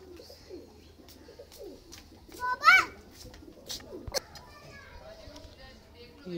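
Pigeons coo in soft, throaty bursts close by, with occasional wing flutters and children's voices chattering in the background.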